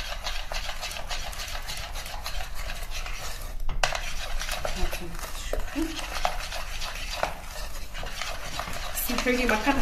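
Brownie batter is stirred with a utensil in a bowl, giving continuous close scraping and clinking strokes, with a brief sharp knock near the middle.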